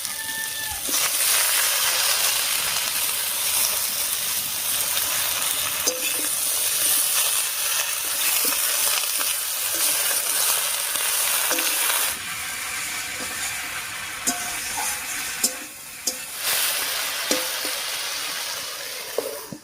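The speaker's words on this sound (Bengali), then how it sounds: "এবারে দেবো চিড়ে রাখা কাঁচা লঙ্কা আর পুঁই শাকটা।" Green chilies and Malabar spinach sizzle steadily in a hot frying pan for a pumpkin and Malabar spinach dish, a continuous bright hiss with a few utensil clicks and stirring scrapes near the end.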